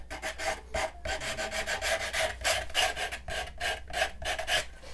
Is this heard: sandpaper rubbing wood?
yes